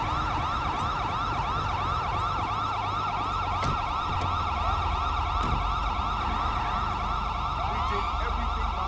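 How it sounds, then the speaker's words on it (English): A police car siren in the GTA V LSPDFR mod wails continuously in a steady repeating sweep, loud and close, over a low engine rumble. "Well, the siren's still on"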